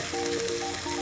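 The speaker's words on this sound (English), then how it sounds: "And then just gently stir it all together." Egg fried rice with cabbage being stirred in a hot pan, a steady close sizzle with light scraping throughout, no voices.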